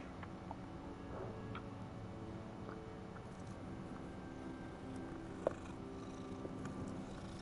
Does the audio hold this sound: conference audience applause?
no